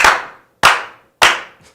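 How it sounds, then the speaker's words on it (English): Three slow, evenly spaced claps ring out close and loud, each a sharp crack with a short fading tail, welcoming a comedian onto a talk show. "May we please begin the show by slow clapping this king of comedy in?"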